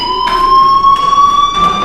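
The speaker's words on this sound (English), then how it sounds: "Hey, do you hear that fire alarm? That means you should be outside." A fire alarm rings inside the video game Life Is Strange, sounding as a steady electronic tone with a loud, unbroken sustained pitch and a few brief pulses over it, with no speech.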